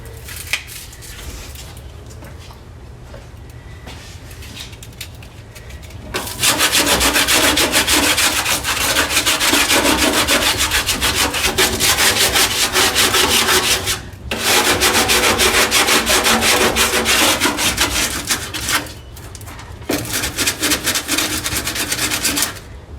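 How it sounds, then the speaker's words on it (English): Hand sanding of a Cadillac trunk with 100-grit sandpaper: steady, loud, rasping back-and-forth strokes close by, running in long sustained bursts separated by brief pauses. "So here's good old-fashioned sandpaper, 100 grit."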